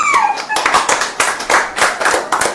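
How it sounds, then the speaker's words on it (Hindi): A church congregation claps together during a worship service, sharp hand claps falling in a steady rhythmic beat for a few seconds, fairly loud and close. "ताली बजाओ"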